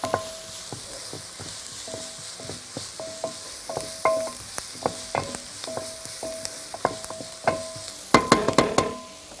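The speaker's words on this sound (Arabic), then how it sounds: "ابتدي كده اقلب البصل انا عايزاه يحمر بس مش قوي" Onions and shrimp frying in a pan while being stirred, with a soft sizzle under repeated close scrapes and knocks of a utensil against the pan, getting busier toward the end.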